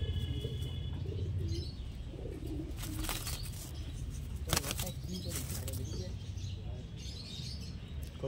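Giribaj pigeons in a loft: soft cooing and chirps with a few bursts of wing flapping, moderately close, while someone talks over them.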